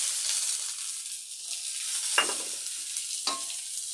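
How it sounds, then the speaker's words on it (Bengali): Something frying in hot oil in a pan while greens are being cooked: a soft, continuous sizzle with two sharper crackling bursts as things are stirred or added, close by, with no talk. "একটু ভেজে নিয়ে তারপর শাকটা ছেড়ে দেবো।"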